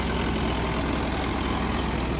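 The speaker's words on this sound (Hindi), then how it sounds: "जो है कटर वाला ट्रैक्टर" A tractor with a cutter attachment idles in a wheat field during harvest, a loud, steady low rumble that holds constant throughout, close and without talk.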